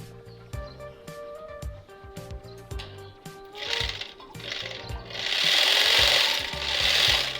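A freshly cleaned edging sewing machine running in a test, loud mechanical clattering with ratcheting knocks and bursts of whirring motor speed, close up and without talk.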